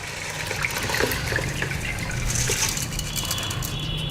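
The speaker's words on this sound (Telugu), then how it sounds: "ఒక లోతైన పాత్ర తీసుకొని అందులో చిల్లులు గిన్నె వాటర్ అంతా ఇలా వడపోసుకుందాం" Soaked rice being tipped into a perforated colander set over a deep vessel, its water draining through in a steady, continuous splashing gush, close and fairly loud without a break.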